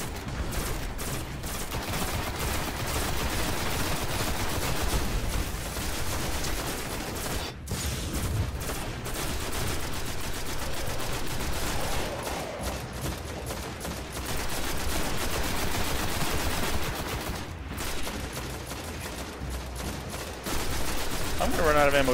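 Sustained gunfire in the video game Destiny, dense and continuous over a steady game soundscape with only brief pauses, loud and close, with a player's voice occasionally under it.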